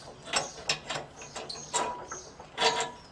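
A bolt on a 2019 Easy Lift 70-36AJ lift basket being turned out with a metric 10 Allen key, giving a series of close, sharp metallic clicks and ratcheting scrapes in an uneven rhythm, with no talking.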